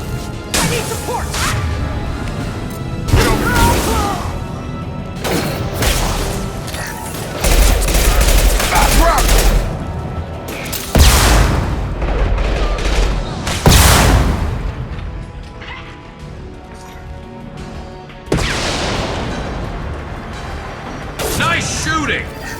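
Gunfire in a Mass Effect firefight: repeated loud bursts and volleys of weapon shots with whooshes and booms, broken by short lulls, with voices talking over parts of the action.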